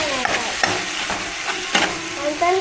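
Tomato and green chilli thecha cooking in a hot pan, stirred with repeated scraping strokes over a steady sizzle, close and fairly loud with a few sharper clinks of the utensil.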